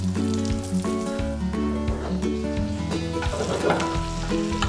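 Onions sizzle in a pan of butter and leftover steak juices, a dense crackling hiss that runs continuously, with low rhythmic tones and scraping stirs underneath.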